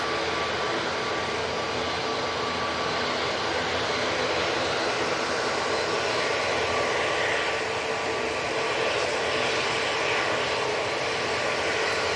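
easyJet airliner jet engines at Manchester Airport, a sustained loud broadband roar with hissing highs that stays even across the whole stretch, without voices.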